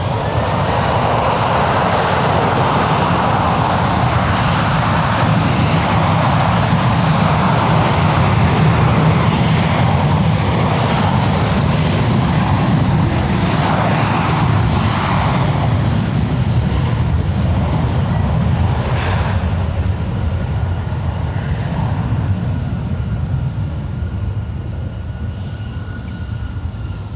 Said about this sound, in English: They're departing now as United 2800 at the Seoul Incheon, Korea, the